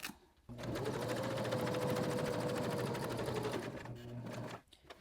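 Steady close whirr of a sewing machine stitching a journal cover, running continuously for about four seconds after a brief quiet start, then stopping.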